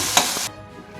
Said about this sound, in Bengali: এবার আমি একটু ডালটাকে নাড়িয়ে ভেজে নেব।